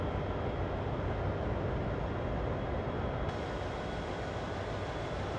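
Diesel locomotive accelerating in Train Sim World on a CSX heavy-haul run, a steady, broad engine drone with rumbling wheel and track noise, constant and fairly quiet, with no talking.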